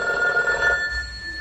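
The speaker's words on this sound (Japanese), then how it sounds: "電話が鳴ります。" A telephone bell rings steadily with a bright, sustained ringing tone on a Japanese TV game show obstacle course, fairly loud and without speech, fading slightly toward the end.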